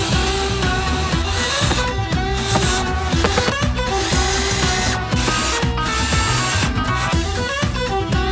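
Power drill driving self-tapping screws into a campervan roof, loud close grinding bursts with rising and falling motor whine and rattling strain, repeating in short pulses throughout.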